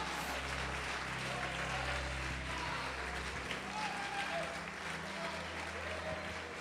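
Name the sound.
congregation applauding in church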